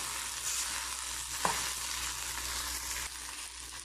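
Okra sizzles in a pan with chilli, turmeric and coriander powder as it is stirred, a steady close frying hiss with one sharp scrape partway through; no voices.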